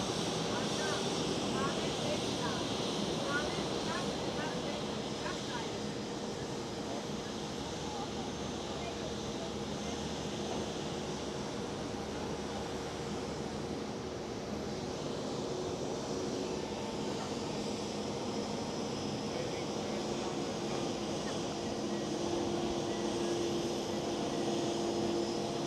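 A jet's engines start up after pushback on the apron at Amsterdam Schiphol, giving a continuous broad rumble with a faint steady whine building late, heard from a distance.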